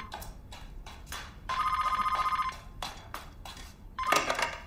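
A telephone rings in a home, two bursts of bright, trilling bell tones separated by a pause, close and clear over faint background clatter.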